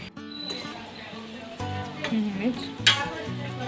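Bean and tomato curry cooking in a pan with onions, seasoning seeds and curry leaves: a soft, steady sizzle with occasional stirring scrapes and clinks, while someone talks over it.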